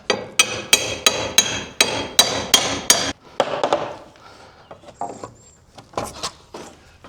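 Hammer blows knocking wooden trim off an old barn door, about nine sharp regular strikes close by, followed by quieter scattered knocks, scraping and clatter.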